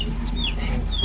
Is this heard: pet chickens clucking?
yes